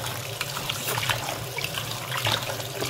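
Rice being washed by hand in water, a steady wet swishing and sloshing with small splashes throughout, close and fairly loud with no talk.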